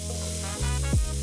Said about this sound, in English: So lowered the heat on the pan, got the onion going in, soften that up for a couple of minutes.